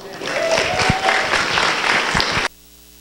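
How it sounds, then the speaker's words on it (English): Applause from a festival audience after a microtalk, a dense, steady clapping that holds loud for about two and a half seconds and then cuts off abruptly, with some voices mixed in. "One more round of applause for Jack Hart"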